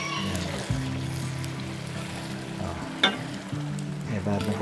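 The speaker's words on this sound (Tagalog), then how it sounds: "Lulutuin natin mabuti yan para mawala yung lansa ng ng sardines" Sardines with onions sizzling and frying steadily in a pan, a continuous close crackle with a few clanks of a utensil against the pan, no talking.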